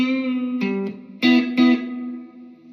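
Overdriven electric guitar strums the intro chords of a song, a few separate ringing hits with rich harmonics. The last chord sustains and fades out. No one speaks.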